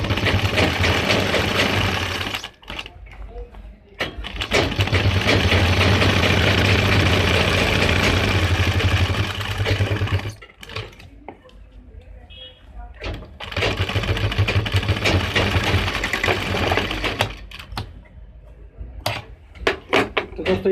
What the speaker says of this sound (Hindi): गोलाई के ऊपर लब की सिलाई घुमा देंगे।